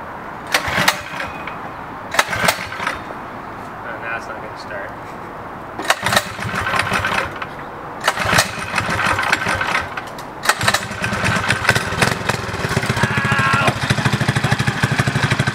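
A homemade go-kart with a Predator 212cc engine is pulled to start several times, then catches and runs with a loud, steady small-engine putter. Someone is talking.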